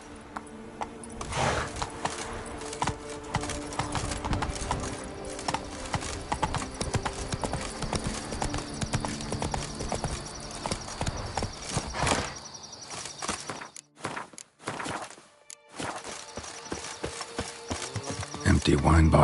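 A horse gallops in The Witcher 3 on PS5, hooves clip-clopping in a fast continuous rhythm, close and prominent, with a brief break near the end before the hoofbeats resume.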